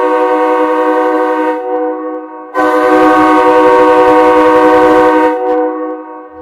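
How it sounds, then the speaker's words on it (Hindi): A loud, sustained train horn blast with rich harmonic tones, sounding twice with a short dip between, close by and with no talking. "अब ये क्या, हॉर्न बज रहा है"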